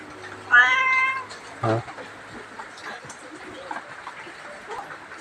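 A cat lets out a clear meow, then a shorter second one, with faint background noise and distant sounds afterward.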